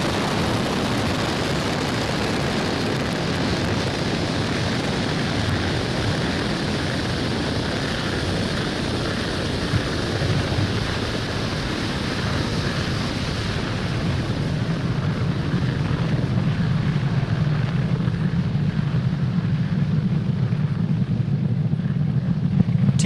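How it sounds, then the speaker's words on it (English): Falcon 9 rocket engines roar on ascent after liftoff from Pad 40 at Cape Canaveral, a steady, dense, broadband rumble heard alone, fading slightly toward the end. "Falcon 9 has successfully lifted off from Pad 40 at Cape Canaveral Space Force Station, carrying the O3b mPOWER payload"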